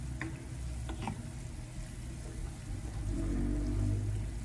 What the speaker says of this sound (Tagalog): lutuin lang natin siya para luto yung bawang